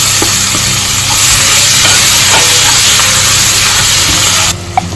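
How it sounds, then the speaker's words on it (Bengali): Chopped onion and garlic hit hot oil in a pan, giving a loud, steady sizzle and hiss that fills the whole stretch and eases slightly near the end. "এ পর্যায়ে এই তেলেই আমি পেঁয়াজ রসুন কুচি দিয়ে দেবো।"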